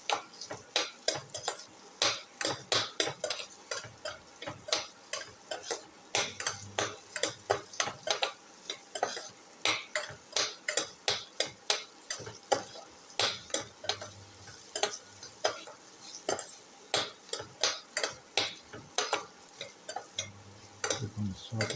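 Rice soup with carrom seeds, ginger and shallots being stirred in a pot, a steady run of quick scraping, clinking strokes close by, with no talk.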